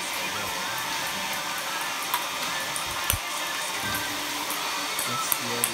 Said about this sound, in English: Here is the off the wall, behind the camera paddle hairdryer shot.